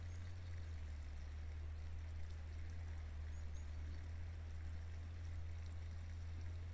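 Water running steadily from a stream or spout outdoors, a constant faint rushing with a low hum underneath and no other clear sounds.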